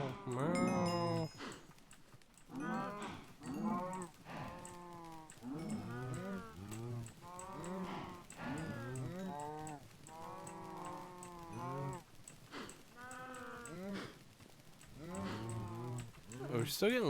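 A herd of Minecraft cows lows again and again, with overlapping moos packed close over a long stretch. A person talks at times, and soft keyboard tapping can be heard now and then.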